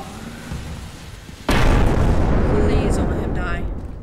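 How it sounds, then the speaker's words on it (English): A bomb explodes in the video game Content Warning, one sudden loud blast whose rumbling roar sustains for a few seconds after a quieter lead-in, with voices faintly around it. "why is that guy throwing bombs at me?"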